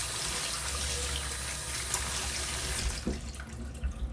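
Running tap water pours steadily into a kitchen sink while fish is rinsed clean before cooking with potatoes and carrots, a continuous close splashing rush with a few brief clunks toward the end.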